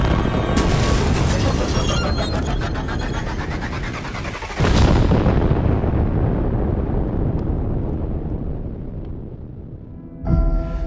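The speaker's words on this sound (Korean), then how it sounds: "두 번째 또 폭발 사고가 났어요." A flammable gas explosion erupts as a loud, sustained roaring blast with a second heavy boom midway, the rumble slowly decaying before another sharp burst near the end.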